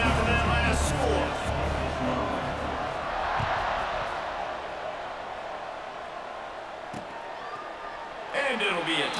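A stadium crowd at an NCAA 25 college football game buzzes as a steady, diffuse roar of distant voices and cheering, with a commentator speaking over it.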